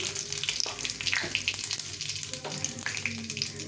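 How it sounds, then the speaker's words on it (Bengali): Dried red chilies and whole cumin seeds crackle and sizzle steadily in hot oil, a close, continuous frying hiss with sharp pops scattered throughout. "তেলটা গরম হয়ে গেছে। শুকনো লঙ্কা, একটু গোটা জিরে দিয়ে দেবো।"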